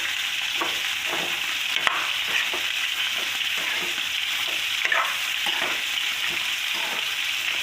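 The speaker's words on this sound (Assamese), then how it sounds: "নিমখ দিলোঁ, এতিয়া ভালদৰে গালি দিম।" Fish pieces being stirred and mixed with turmeric and salt in a pan, a steady soft sizzle running throughout with repeated scraping stirs and a few sharper clicks of the utensil, close by, no voices.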